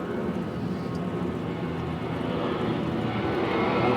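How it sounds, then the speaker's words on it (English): Jet aircraft passing overhead during an outdoor barbecue pit cook, a steady broadband roar that holds loud and continuous throughout, swelling slightly toward the end. "Of course, there's a jet flying over."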